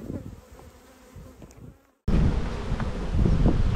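Honey bees buzz around an opened hive with a frame pulled out, a soft close hum that cuts out briefly and returns louder and denser for the rest.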